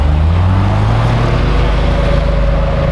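A drift car's engine drones loud and close at night on a drift track, its low pitch rising and settling through a sustained note, with no speech.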